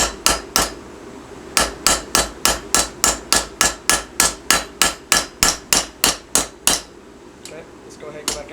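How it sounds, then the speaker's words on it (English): A hammer forges the spine of a blade on an anvil, striking in a steady run of about twenty sharp, ringing blows after a few opening hits and a short pause, loud and close, with no talk over it. "That way you're not putting your hammer on the anvil."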